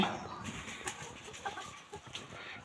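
Hens clucking softly in a coop while waiting their turn at the nesting pot to lay eggs, faint intermittent clucks and calls with some distant background noise.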